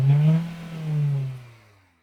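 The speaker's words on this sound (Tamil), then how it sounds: "இந்த வெஹிக்கிளுடைய இன்ஜின் நோட்டை கேளுங்க." A Maruti Brezza ZXI Plus automatic engine revs once, a smooth low rising-and-falling note with a second swell before fading out, heard close and alone.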